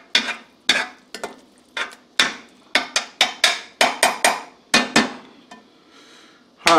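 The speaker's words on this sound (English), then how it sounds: "Make sure you scrape them sides. Don't forget them Cajun spoons with the cut-off tip." A flat-tipped Cajun spoon scrapes and knocks against the sides of a cooking pot during catfish and shrimp courtbouillon, a run of sharp, close, irregular clacks separated by brief pauses.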